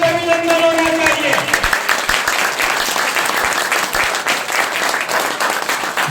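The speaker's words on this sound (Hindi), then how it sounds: "जोरदार तालियों से अभिनंदन होना चाहिए" A crowd at an evening aarti gathering during a devotional service yatra applauds vigorously, with steady dense clapping following a voice that fades out at the start.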